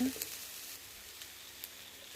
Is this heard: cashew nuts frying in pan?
yes